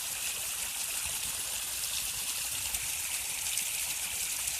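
A partly frozen stream trickles through snow, its water gathered to one side under the ice, giving a steady, close wash of flowing water with no one speaking.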